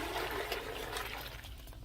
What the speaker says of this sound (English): Can pour the broth back into the crock pot.